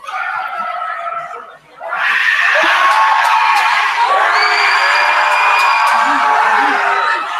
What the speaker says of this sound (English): We have some more cheering